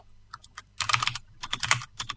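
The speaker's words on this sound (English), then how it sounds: "I'll type on the mechanical keyboard that I have." Fast bursts of clicky keystrokes on a mechanical keyboard, a few scattered taps followed by two dense rattling runs of typing, close and crisp with no voice.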